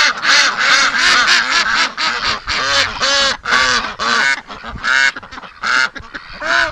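A flock of ducks at a duck breeding facility quacks excitedly and loudly at close range, with choppy bursts of overlapping calls throughout.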